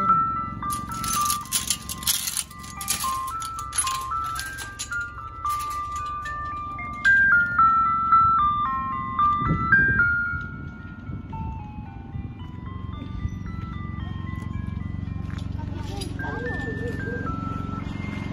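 An ice cream truck plays its tinkling, melodic jingle continuously, with a rumbling engine and some rattling underneath. People talk over the music partway through.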